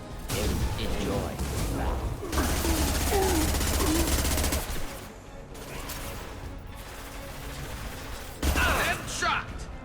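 Sniper gunfire in the video game Mass Effect 2 on Tuchanka, loud and sustained amid dense combat noise with repeated sharp bursts, while someone talks over it.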